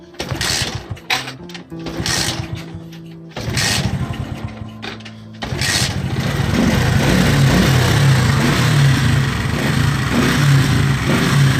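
A cold Alpha 49.9cc moped engine sputters and bogs through several short throttle blips, then settles into a loud, steady, buzzing rev that holds close by to the end.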